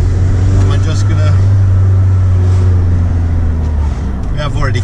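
A Volkswagen T4 van with a new, bigger brake kit and a rear disc conversion drives on a test run. A loud, steady low engine and road drone fills the cabin, and someone talks over it.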